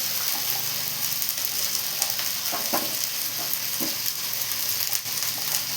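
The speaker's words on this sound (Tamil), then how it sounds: "கேரட்டு போடலாம் அதையும் நல்லா வதக்கிடலாம்" Carrots sauté in a pan for avial mixed vegetable curry, a continuous hissing sizzle with a few stirring scrapes and clatters, close and steady, no talking.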